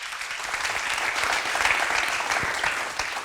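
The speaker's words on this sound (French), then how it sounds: "je vais vous demander de faire beaucoup d'applaudissements pour Monsieur Ouseni Ninkiema" Studio audience at a Burkina Faso TV variety show claps in a steady, even burst of applause lasting a few seconds, moderately loud and with no voices over it.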